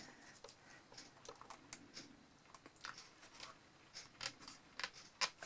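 Scissors snip paper for a handmade scrapbook album, a series of faint, close, crisp cuts in an irregular rhythm.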